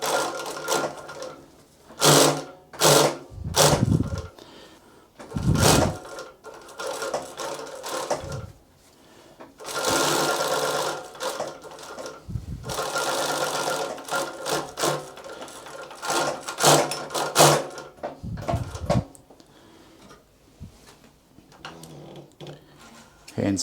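An industrial cylinder-arm walking-foot sewing machine, a Typical TW3 343D, stitching through 12 layers of denim in close, loud mechanical bursts that start and stop repeatedly, with someone talking in the pauses.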